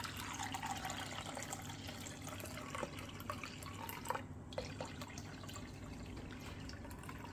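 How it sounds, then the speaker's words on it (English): Alum solution for growing crystals being poured back into a container, a steady wash of running liquid with a few drips, fairly close and continuous. "I'm going to pour that back in there."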